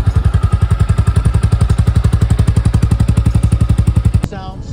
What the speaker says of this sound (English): Nice single bang bang exhaust sound.